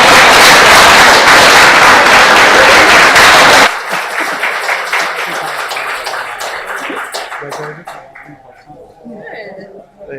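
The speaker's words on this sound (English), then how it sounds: "Let's give Katey one more big round of applause." Audience applause for Katey at a live event, a loud dense burst of clapping for the first few seconds that drops off sharply, leaving scattered claps and murmuring voices fading out.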